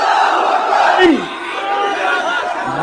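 A large crowd at a religious political gathering shouting a loud collective chant in response to a call, a dense roar of many voices sustained across the moment and then trailing off.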